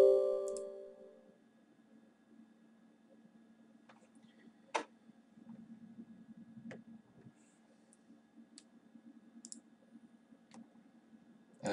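A computer mouse clicks to open a program on a PC. Sharp single and double clicks sound sparsely and close over a faint background hum, with no talk.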